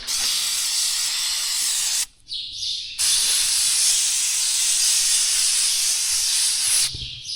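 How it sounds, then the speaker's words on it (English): An aerosol can sprays oil-based lubricant onto farm machinery parts in long, loud hissing bursts, with a short pause around two seconds and another break near the end. "I like to spray some sort of oil-based whatever on a couple of these parts"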